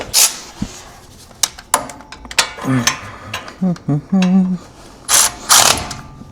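A Milwaukee power ratchet works on a Chevrolet Trailblazer wheel bearing, whirring in short bursts with clicking ratchet pawl sounds and metallic clanks between runs, close and loud.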